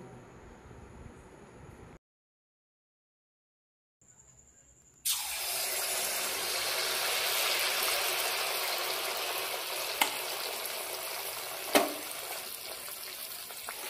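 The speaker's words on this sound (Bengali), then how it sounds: "ভালো করে নাড়িয়ে মালপাগুলো এবার ভেজে নেব।" Palm fruit malpua batter frying in hot oil, a steady broadband sizzle that starts abruptly after a short silence and continues loud and close, with a couple of brief clicks.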